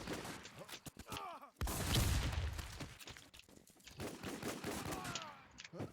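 Gunfire between players in the online shooter WarZ, scattered shots and short automatic bursts at moderate distance, with a louder rumbling burst midway and faint voices at times.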